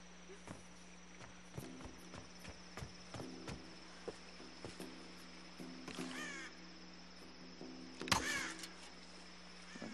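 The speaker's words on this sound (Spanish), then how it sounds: "Cuervo para cenar." Crows cawing in Tomb Raider 2013, several harsh caws scattered over the scene amid soft footsteps and game ambience, with a louder burst of calls near the end; mostly faint and fairly distant.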